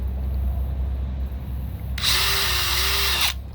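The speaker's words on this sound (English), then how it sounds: "Make sure your drill's going the right way." A power drill boring into PVC pipe whines steadily for about a second and a half, loud and close, then cuts off, with a low background hum throughout.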